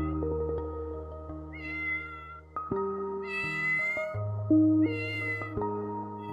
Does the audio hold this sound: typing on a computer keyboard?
no